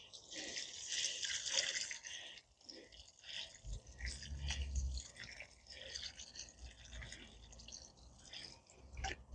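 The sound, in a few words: watering a newly planted Hakonechloa macra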